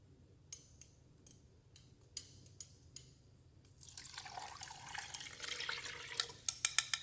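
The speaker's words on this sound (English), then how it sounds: "I just added 2 cups of beef broth" Two cups of beef broth poured over a beef chuck roast, a steady liquid splashing that builds and grows louder over several seconds, following a few quiet taps and clicks.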